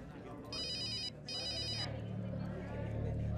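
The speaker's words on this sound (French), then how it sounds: "Le téléphone." A telephone rings in two electronic bursts, each roughly half a second long, over a steady low hum and room background in a tense drama scene.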